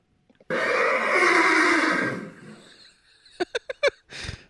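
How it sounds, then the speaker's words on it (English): Horse neigh sound effect played as a drop, a loud close whinny lasting about two seconds, followed by a few sharp snorting bursts and a final short whinny. "I just played a drop of a horse."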